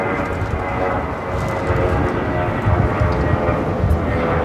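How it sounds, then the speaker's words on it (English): A Viva Aerobus Airbus A320 jet rolls for takeoff at LAX, bound for Guadalajara, giving a dense, steady engine roar, fairly loud and unbroken throughout the short span. "This is Viva Airbus 511 taking off to Guadalajara on the A320."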